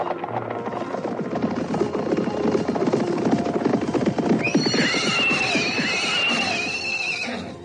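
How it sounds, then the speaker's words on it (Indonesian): Horses gallop with rapid, close hoofbeats in a radio drama sound effect, and one horse gives a loud, drawn-out neigh near the end. "tahan lari kuda kalian"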